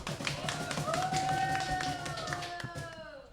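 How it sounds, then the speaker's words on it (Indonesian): A studio crowd breaks into brief applause, with irregular claps and taps layered over a steady hum and a long electronic whine, fairly close and loud for a few seconds. "Tepuk tangan dong"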